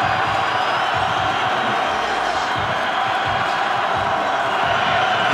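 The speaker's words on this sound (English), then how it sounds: "Crowd back in it." A stadium crowd roars steadily at a 2018 college football game between Air Force and Utah State in the fourth quarter, a loud, dense, unbroken wash of cheering.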